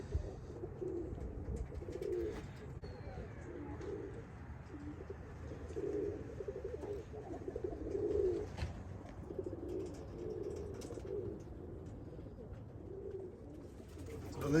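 Racing pigeons and Birmingham roller pigeons coo in low, steady, overlapping bursts that keep going without a break, fairly close, with faint background noise and no speech.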